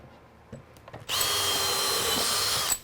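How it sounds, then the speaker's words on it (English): A power drill drives a screw into wood in one loud, steady whir lasting under two seconds, preceded by a few faint knocks and handling noises. "I do want a couple of screws in the center here."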